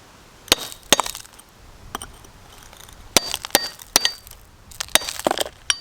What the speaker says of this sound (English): See if I can get any of these striations to actually crack.